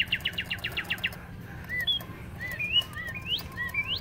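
Motion-activated Easter toy bird on a store shelf gives a quick run of rapid, bright electronic chirps, then scattered rising whistles and tweets over low background hum.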